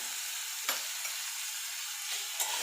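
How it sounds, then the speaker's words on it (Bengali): Potatoes being stirred in a hot frying pan, a steady faint sizzle with a couple of brief scraping clatters from the spoon, no voices. "আলুটাকে একটু নাড়াচাড়া করে নেবো, খুব ভাজার দরকার নেই।"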